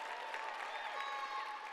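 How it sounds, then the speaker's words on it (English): An audience applauds graduates at a high school graduation ceremony, with steady, fairly faint clapping spread evenly through the hall and no voices over it. "Let's give another round of applause for these outstanding graduates."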